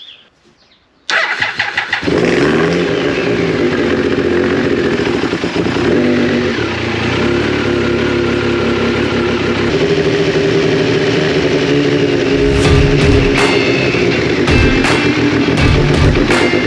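A Triumph Daytona 955i motorcycle engine kicks into life after a moment of quiet, then runs loudly and close, revving up and down with sharp bursts near the end.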